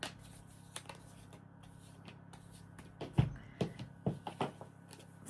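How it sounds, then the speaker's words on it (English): Tarot cards being shuffled by hand during a reading, a run of soft papery riffles and taps that grows busier toward the end, close and fairly quiet with no talking. "giving everything a good shuffle."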